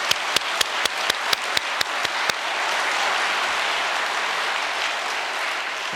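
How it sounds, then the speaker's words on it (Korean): Congregation at a New Year's prayer gathering gives staff encouraging applause, opening with a run of loud, evenly spaced rhythmic claps that melt into a dense, sustained wash of crowd clapping. "여러분 격려의 박수 크게 올려주시면 고맙겠습니다"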